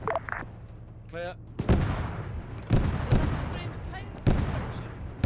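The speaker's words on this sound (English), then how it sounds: "Inbound artillery, inbound artillery." Artillery fire in a military video game: three heavy booms with rumbling tails, spaced about a second apart, loud and close, with a brief voice heard early on.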